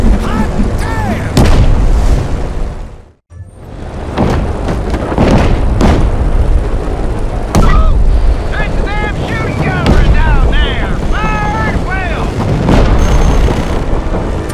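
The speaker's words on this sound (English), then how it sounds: "Surface to air missile" Surface-to-air missile explosions in Just Cause 3, heavy booming blasts and rumbling over a dense wash of action noise, loud and near, with a short silent gap early on and voices mixed in.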